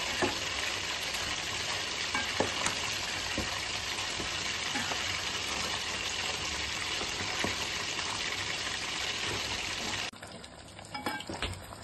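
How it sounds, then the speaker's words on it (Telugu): Fresh korameenu fish pieces frying in hot oil for homemade fish pickle, a steady, close sizzle and bubbling crackle that continues evenly, then quiets abruptly near the end. "చేపలు మంచిగా బ్రౌన్ కలర్ వచ్చేంత వరకు వేయించుకున్నాను."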